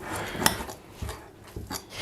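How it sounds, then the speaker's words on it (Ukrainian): A fork scrapes and presses against a plate mashing sturgeon fish meat in a few short, uneven strokes, with soft clinks and mushy squishing at close range. "Далі м'ясо виделкою просто розминаю."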